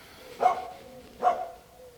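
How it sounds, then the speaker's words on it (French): A dog attacking a pigeon gives two sharp barks about a second apart, moderately close, with quiet background between them and no talking. "ça c'est ma chienne qui attaque un pigeon, hein, désolé, mais... Mia!"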